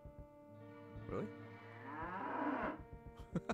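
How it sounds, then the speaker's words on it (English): A cow from the PlayStation game Diablo gives one long, clear, drawn-out moo that rises and fades, heard close over quiet game music with brief clicks around it. "Yes, that is a cow, all right."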